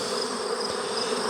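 Honey bees in a mating nuc hum with a dense, steady buzz, close and constant throughout.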